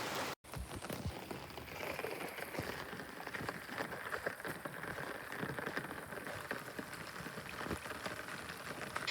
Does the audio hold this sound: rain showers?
yes